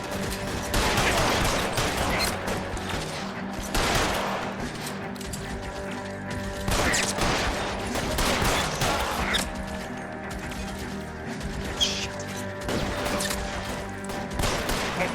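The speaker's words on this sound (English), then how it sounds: "Lay down some covering fire" Bursts of gunfire in the L.A. Noire video game shootout, loud repeated volleys and rattling shots crashing in waves through a dense, noisy mix with little pause between them.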